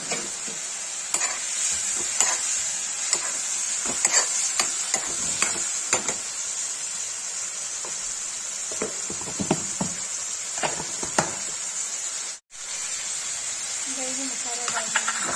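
Bitter gourd sabzi with masala fries in a pan with little oil while being stirred and turned, a constant close sizzle broken by repeated scraping clicks of the spoon, with a brief dropout near the end and some quiet speech.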